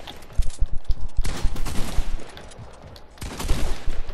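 Video game machine gun fire crackles in rapid bursts, several dense volleys of close, sharp shots separated by brief pauses.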